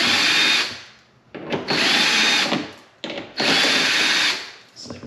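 Power drill removing 15mm Torx screws from inside the wheel well of a C7 Corvette bumper, in three loud whirring bursts separated by brief pauses, close up.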